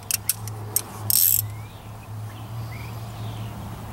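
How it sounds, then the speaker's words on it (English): A ratchet turning a deep socket on an alternator bolt, a quick series of close, crisp clicks followed by a short grinding burst, then quiet shop ambience with a low hum. "Wait, I got a bigger socket here. Bigger, deeper socket."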